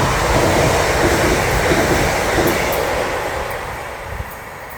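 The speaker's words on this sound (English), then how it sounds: "Trains going to Manchester, trains going that way to Liverpool." A train passes along a busy railway line in the St Helens area running between Liverpool and Manchester, a loud, steady rumble and roar of wheels and carriages close by that slowly fades toward the end.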